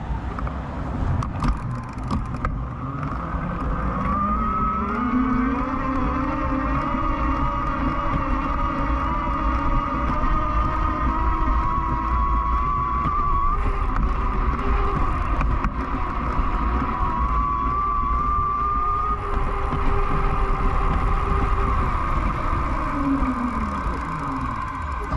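An Eahora Snow X6 electric bike climbs uphill at maximum pedal assist in a climbing gear, its motor giving a steady whine that rises and falls with a constant rush of wind and tyre noise.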